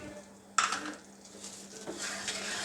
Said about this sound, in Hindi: मिल्क पाउडर डालकर इसको अच्छी तरह से मिक्स कर लूँगी।